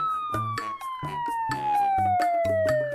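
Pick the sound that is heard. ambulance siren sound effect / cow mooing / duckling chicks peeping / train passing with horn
ambulance siren sound effect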